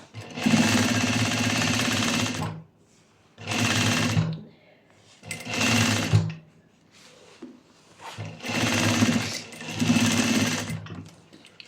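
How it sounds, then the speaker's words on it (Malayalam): A sewing machine stitches in five loud bursts of a few seconds each, separated by quiet pauses, its rapid mechanical chatter close and clear. "ഇതുപോലെ സ്റ്റിച്ച് ചെയ്യാം കേട്ടോ"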